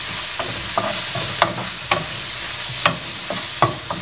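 Chopped green chillies frying and being stirred in a pan for a chicken dry dish, giving a steady close sizzle broken by repeated scraping stirs.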